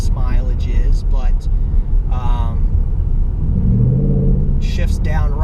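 A 2018 Ford Mustang GT with a 10-speed transmission and Performance Pack cruises at about 40 mph and 1,400 RPM, its low engine rumble and road noise droning steadily beneath someone talking over it.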